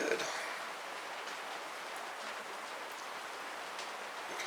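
Heavy rain pours steadily outside a garage, a constant broadband hiss of drops on surfaces with no pauses, fairly distant and even in level throughout.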